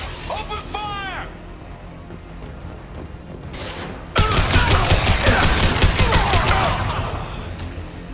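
Sustained automatic gunfire in the Mass Effect 2 video game, a loud continuous burst of rapid shots with a few dry clicks and bangs before it, close and dense.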